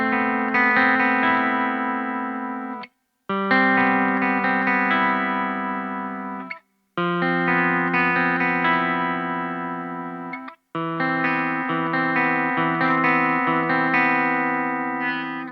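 Clean-channel electric guitar through an Engl Powerball II amplifier, playing four sustained, ringing chords, each held for several seconds with short silent gaps between them, bright and full with a touch of reverb and no voice.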